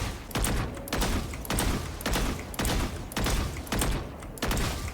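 Rapid gunfire bursts in Valorant during aim practice, about eight loud, evenly spaced volleys each lasting roughly a third of a second, separated by brief pauses.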